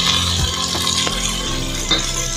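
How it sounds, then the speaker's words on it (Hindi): A spoon stirs ginger-garlic paste and green peas in a hot pan for matar pulao, with scraping taps against the metal over a steady low sizzle and frying crackle. "मैंने इसके अंदर अदरक लहसुन का पेस्ट और जो है मटर डाल दिया है, प्याज को निकाल कर थोड़ा सा इसको थोड़ा सा चला लूँगी"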